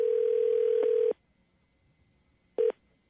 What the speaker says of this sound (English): Jacqueline, hang on, it's ringing.